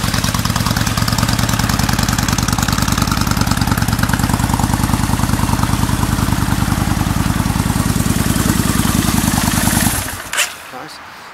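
A fuel-injected 2002 Kawasaki Vulcan 1500 Nomad motorcycle idles close by with an even, throbbing pulse for about ten seconds, then cuts out and leaves near silence with a few faint knocks.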